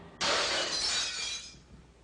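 Crystal balls smash with a sudden loud burst of shattering glass, followed by a bright tinkling spray of shards that fades over about a second, with no talk.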